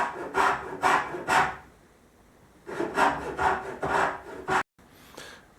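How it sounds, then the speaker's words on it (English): A handsaw cuts a hinge knuckle joint in cherry wood for a Chippendale table swing leg, sounding as two close bursts of three rasping strokes each, a pause between them, then a brief softer stroke at the end. "So we'll get started with the sawing. Cutting out the hinges"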